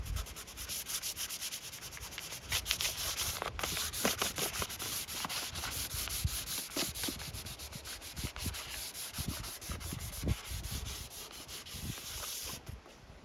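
Wood for a handmade greenwood coffee table is sanded by hand, a steady run of close, gritty rubbing strokes with no talking.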